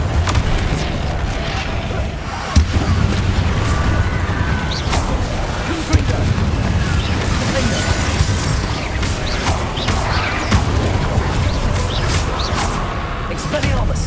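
Spell blasts from a wizarding action game, fire and explosive curses going off in a continuous loud barrage of whooshes, mechanical clatter and booms, with voices shouting spell names over the fighting.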